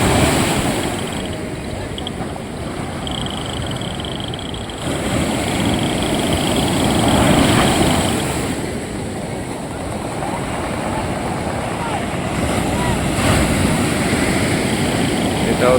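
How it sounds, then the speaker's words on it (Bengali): Sea waves break steadily on the beach at Old Digha at night in the off season, a continuous close roar of surf that swells louder around the middle and again near the end. "ঢেউটা আস্তে আস্তে ভেঙে গেছে।"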